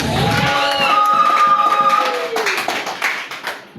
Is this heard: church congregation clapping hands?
yes